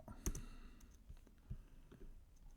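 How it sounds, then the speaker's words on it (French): Computer mouse clicks ring out close and quiet, one sharp click followed by several softer, irregular clicks over a couple of seconds. "Donc je fais un clic dessus et vous voyez que ça me le copie"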